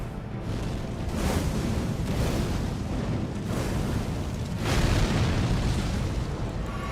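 Sorcery from the Elden Ring DLC unleashes holy-damage explosions, a dense roaring blast noise that swells in repeated waves for several seconds, loud and continuous with no voices.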